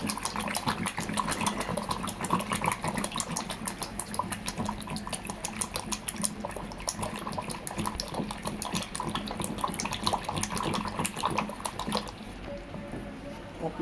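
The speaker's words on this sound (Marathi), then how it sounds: "आता आपण त्याला रवीने गरगटणार आहोत" Cooked toor dal being mashed in a pot with a wooden churner, a busy continuous wet sloshing and clicking that runs steadily and close, easing off near the end.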